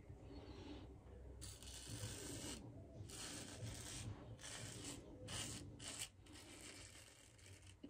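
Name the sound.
Merkur safety razor blade peeling while shaving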